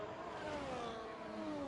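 Racing car in a racing video game pulls into the pit lane at Imola, its engine droning steadily with a falling whine as it slows, continuous and fairly close.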